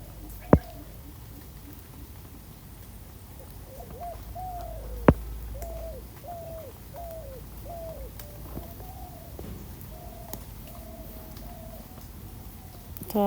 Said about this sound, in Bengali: তো এখানে দেখা যাইতেছে একটা সামনে ঘুঘু পাখি।